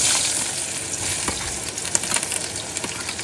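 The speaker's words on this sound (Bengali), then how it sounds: "কড়াইতে তেল গরম হয়ে গেছে, এবার প্রথমে দিয়ে দেবো পেঁয়াজ।" Onions hit hot oil in a wok, producing a loud, bright sizzle that stays steady and close, with small crackles and pops scattered through it and no talking.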